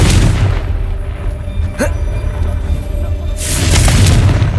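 A Confringo fire spell blasts in Hogwarts Legacy, a heavy booming explosion with low rumble swelling at the start and again near the end, plus a brief whooshing streak between, loud and close with no talk.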